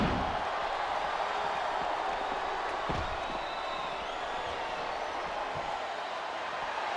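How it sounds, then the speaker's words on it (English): Arena crowd in a WWE Smackdown vs Raw Extreme Rules video game match, a steady, dense roar of cheering fans that holds at an even level throughout, with a faint thud near the middle. "Didn't it give you a rush to hear the fans cheering and chanting for you?"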